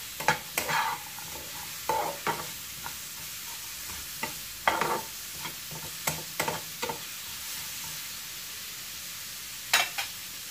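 Onions, chili and garlic dry-fry in a pan without oil, with a soft, faint sizzle broken by repeated scraping strokes of a spatula at uneven intervals.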